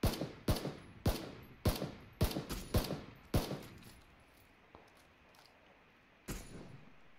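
Gunfire in the battle royale video game PUBG: a volley of sharp, loud shots in an irregular rhythm, roughly a dozen cracks packed into the first few seconds, then sparse fainter pops and one final shot.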